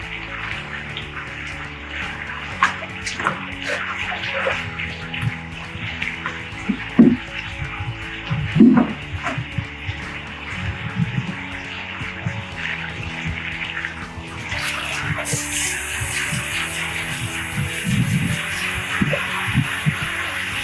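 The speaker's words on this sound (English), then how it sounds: "I have a good path of water to flow through this pump." A pump drawing water out of a plaster swimming pool being drained for an acid wash, a steady rushing, gurgling flow with a constant hum, continuous for about twenty seconds, with a few faint knocks and splashes.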